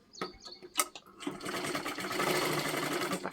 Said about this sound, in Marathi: आता इथे आपल्याला शिलाई मारून घ्यायची आहे अशा पद्धतीने पकडून